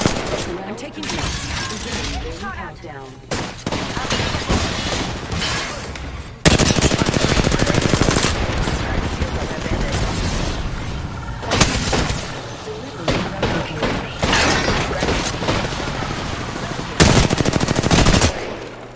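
Blaster and gun fire crackles in a Star Wars video game: dense, loud, near-continuous volleys with sharp bursts, layered with explosions and game noise.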